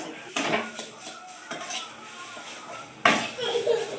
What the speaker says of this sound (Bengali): দিয়ে এভাবে মিক্সড করে আমি এটাকে নামিয়ে নেব।